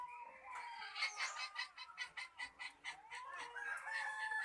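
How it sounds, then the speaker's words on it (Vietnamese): A rooster from Đắk Nông crows once in a long, loud, ringing call lasting several seconds and breaking into a pulsing warble partway through. Nearby and clear, with no talk over it. "Nó gãy quá là hay luôn."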